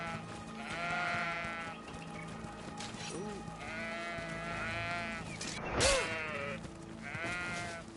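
Sheep bleat repeatedly in the video game Greedfall, a series of wavering, nasal calls at a moderate distance over a low ambient bed, with a short voiced exclamation in the middle.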